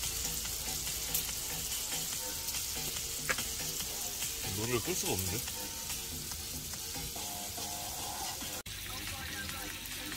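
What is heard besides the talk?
meat sizzling while camp cooking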